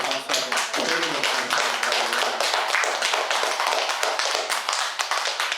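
Dense, steady clapping from a gathered audience at a Sunday Buddhist Dharma service, many hands beating together loudly and evenly throughout.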